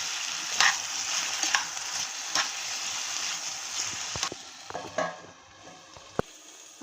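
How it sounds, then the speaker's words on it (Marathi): Potato pieces fry in oil in a pan for fasting dosas, producing a close, steady sizzle with stirring scrapes and a few sharp utensil knocks. The sizzle thins out near the end. "आपला बटाटा तिकडे फ्राय होतोय"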